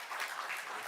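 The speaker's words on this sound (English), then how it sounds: "let's give a big applause for them" Applause from a conference audience at a technical summit, a steady dense patter of clapping hands lasting under a second with no break, fairly loud and even throughout.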